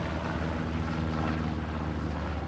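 Propeller drone of a recon plane in a tank video game, a steady continuous hum held at an even level throughout, with no talk over it.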